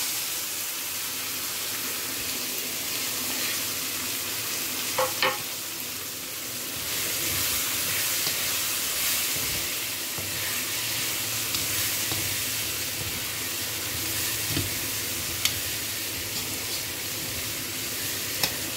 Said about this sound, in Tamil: இப்போ நம்ம கேப்சிகம் ஆட் பண்ணிப்போம்.